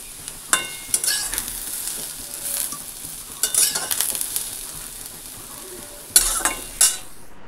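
Boiled dal gets its tempering in a pan: bursts of loud sizzling and frying as it is stirred, with scraping spoon strokes and clinks in between, up close and no talking.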